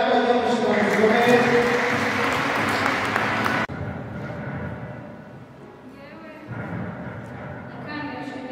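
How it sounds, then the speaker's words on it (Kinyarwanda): Applause from a congregation at a church wedding ceremony, brisk clapping for a few seconds that stops abruptly, followed by quieter speech. "ubwo mumuhaye amashyi"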